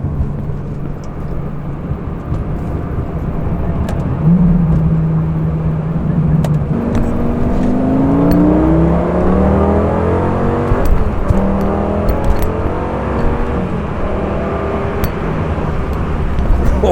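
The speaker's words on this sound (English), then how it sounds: "Let's hit the freeway and just go for a quick drive." A Lamborghini accelerates up a freeway on-ramp, its engine rising through several revving gear pulls, close and loud over steady road and wind noise throughout.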